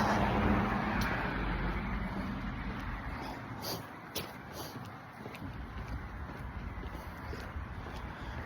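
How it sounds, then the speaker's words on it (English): Cars pass through a busy intersection in a steady wash of road noise, with engines swelling and fading at a moderate distance and a few sharp higher sounds like birds or horns breaking through. "I hear a lot of cars here. It's kind of a busy intersection."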